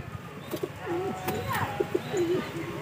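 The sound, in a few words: pigeons cooing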